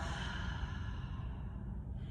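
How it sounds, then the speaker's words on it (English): During a yoga class, a long, steady breathy exhale through an open mouth lasts about two seconds, soft and close. "Open mouth, exhale, let it all go."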